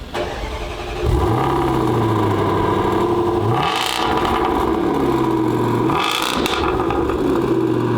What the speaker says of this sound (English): We rev some V8s.